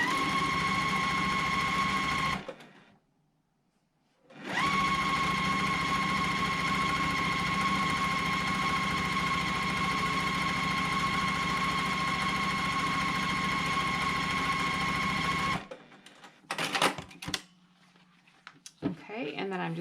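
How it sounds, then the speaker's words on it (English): A sewing machine stitches quilt block pieces sewn right sides together, including an orange piece, running at a steady whirring hum in two long runs separated by a short pause, then clicks and handling noises at the end. "I'm going to start at that corner and stitch all the way to the end of this orange piece"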